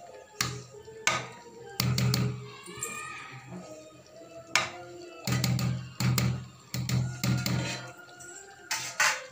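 A spoon scrapes and knocks against a pot while basmati rice is stirred in water for chicken biryani, with irregular close metallic taps and clatters separated by brief pauses.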